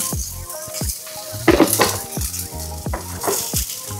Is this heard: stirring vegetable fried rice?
yes